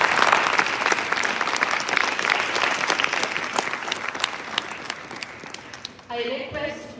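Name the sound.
audience applause after session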